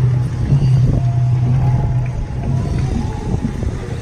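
Honda CB750 motorcycle with a near-open exhaust, modified in chopper style, at the Wheels & Waves 2019 event: a steady low engine drone with a loud rumble idling or cruising close by, joined by faint background chatter.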